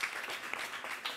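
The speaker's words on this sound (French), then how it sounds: "On l'applaudit bien fort" A short burst of applause for a pupil in a class setting, several hands clapping together in a bright, fairly faint patter that holds steady for about a second.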